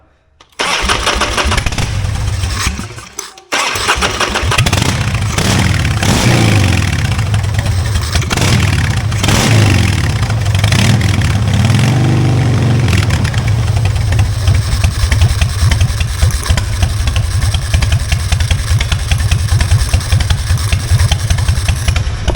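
A Harley-Davidson chopper fitted with a Mikuni-copy carburetor fires up after a brief crank and settles into a loud, close, lumpy idle. The engine blips and revs several times while it keeps running steadily.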